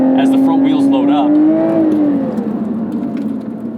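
A 2020 Lotus Evora GT pulls close by with a smooth engine note that climbs in pitch, peaks, then eases off and fades into a softer drone.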